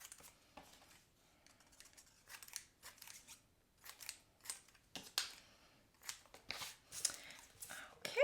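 Scissors snip through tile-scrap card paper for handmade cards in a run of short, crisp cuts, faint and close, coming in irregular clusters with brief pauses between them.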